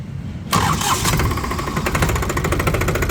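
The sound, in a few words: New Holland 3630 tractor engine starting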